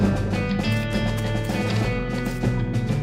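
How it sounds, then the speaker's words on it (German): Rhythmic clip-clop of a video game horse's hooves trots along steadily, with a whinny rising over the footfalls amid a bed of background music. "Oh, das ist ein Pferd."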